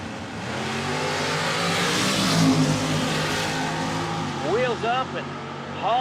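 Nitro funny cars, a Gen 3 Chevrolet Camaro and a Henry J, roar down a drag strip in a loud, sustained engine blast. The sound fades as the cars pull away, with an announcer's voice coming in near the end.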